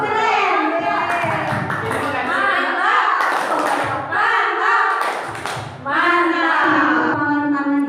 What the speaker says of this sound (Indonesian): kita beri tepuk tangan untuk Pak Toli dari Parian